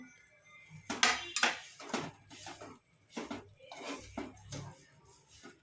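Sesame seeds and peanut powder stirred into melted jaggery and sugar in a pan for til ladoo, with a spoon scraping and clinking against the metal in a run of uneven strokes, close and moderately soft.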